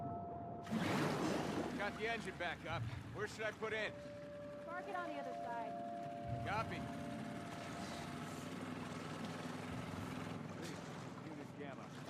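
A boat engine drones steadily in The Last of Us Part II, a low continuous rumble over water ambience with radio voices talking over it throughout.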